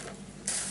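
Scoring tool pressed and drawn along paper for a scrapbook mini album, a soft mechanical scrape and creak ending in a brief louder swipe; close and quiet with no talking.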